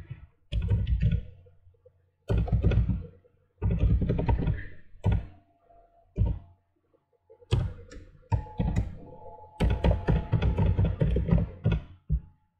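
An email address being typed on a computer keyboard: loud, close bursts of rapid key clicking with short pauses between runs of keystrokes, no talk.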